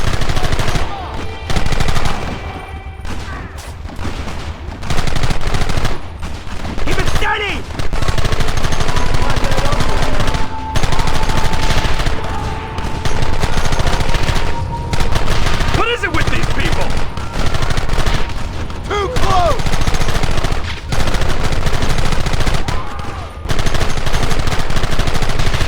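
Heavy, near-continuous gunfire in Red Dead Redemption, with rapid volleys of shots and brief lulls, and occasional voices shouting beneath the din.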